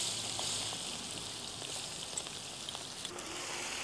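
Cumin, mustard seeds, curry leaves and green chillies sizzle steadily in hot oil for a chutney of dried prawns, a close, even hiss with no talking.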